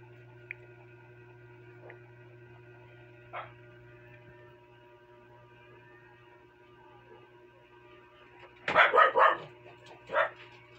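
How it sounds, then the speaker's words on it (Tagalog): Several dogs at home break into a short burst of barking at a passerby, a cluster of close barks followed by one more, over a quiet room with steady mains hum. "medyo may dumaan po kasi kaya nagkahulan yung aking mga alaga"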